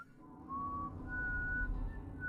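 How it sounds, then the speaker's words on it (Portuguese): A person whistles a strange, rhythmic tune of sliding high notes, clear and unaccompanied over a low background rumble. "Ele assobiava uma música estranha e ritmada, cujas notas me deixavam desconfortável"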